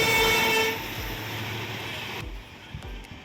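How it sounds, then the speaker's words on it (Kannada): A train horn blares loudly at a railway level crossing with its gate closed, then cuts off as the train rumbles past, and a few short clanks follow near the end. "ಟ್ರೈನ್ ಬಂತು."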